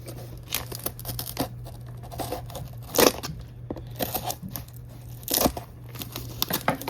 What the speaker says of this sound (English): some really bad scissors like normal. Just gonna cut this open.